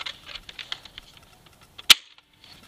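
Koosh Vortex Tornado X-2 toy launcher firing with a single sharp snap near the end, preceded by light plastic clicks and rattles of priming, close and otherwise quiet.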